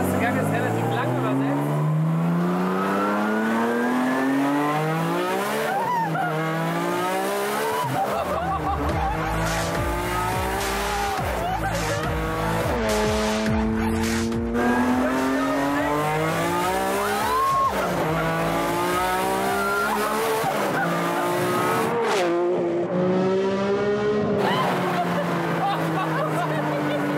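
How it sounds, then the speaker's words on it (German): An extremely tuned Nissan accelerates hard through the gears, its loud engine note climbing repeatedly in sweeping pitch rises with brief drops at each shift, sustained and close, with occasional voices over it. "Dieser Nissan ist die pure PS-Gewalt."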